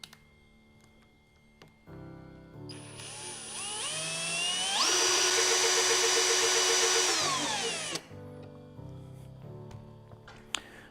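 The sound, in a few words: electric drill moving CNC carriage into position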